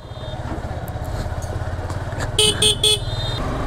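Motorcycle ridden on a road with a Royal Enfield close by, carrying a pillion passenger: a steady, close engine rumble throughout, with three short horn honks near the end.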